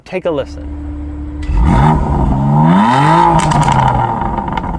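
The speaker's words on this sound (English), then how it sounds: "the exhaust note, which sounds quite nice, better than a regular M2" A BMW M2 Competition engine revs up to a loud, steady exhaust rumble with rising and falling pitch, after a brief spoken phrase at the start.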